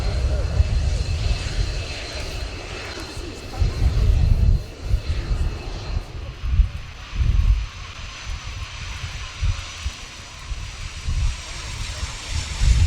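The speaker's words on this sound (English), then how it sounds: "it's the Luftwaffe Typhoon that we see as the last of these aircraft to land, flown by Oberleutnant Reinhard Schröder." A Luftwaffe Eurofighter Typhoon jet lands at the end of a NATO 70th anniversary flypast at the RIAT 2019 airshow, its engine roar and rumble fading as it settles, with an announcer talking over it.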